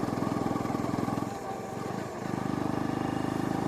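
A Honda CL250 motorcycle engine thumps at low revs with a steady rhythmic pulse, dips briefly as it downshifts to fourth gear, then resumes its chugging beat, close and moderately loud.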